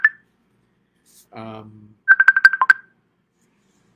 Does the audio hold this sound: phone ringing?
yes